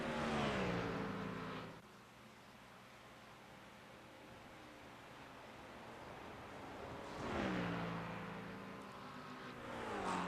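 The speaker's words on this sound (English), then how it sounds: "you can always hear when that Mustang whizzes by the camera" Ford Mustang GT3 V8 race cars in a sim racing game blasting past trackside, a loud revving roar that drops in pitch and fades, then quieter engine noise before more cars swell in and sweep by.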